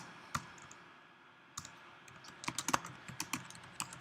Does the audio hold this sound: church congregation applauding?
no